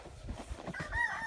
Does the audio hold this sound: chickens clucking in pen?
yes